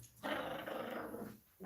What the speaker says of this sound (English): Apologies for my dog.